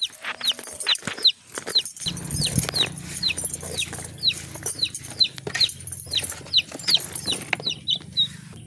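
Young Rhode Island chicks in a poultry coop give repeated high, thin peeps and chirps, many overlapping in a steady chatter, with a low rumble of background noise under them.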